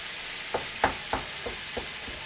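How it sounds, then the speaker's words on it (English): Venison mince browns in a pan for bolognese, with a steady close sizzle and about five soft, evenly spaced stirring taps over the hiss. "let the meat here cook until it's somehow brown"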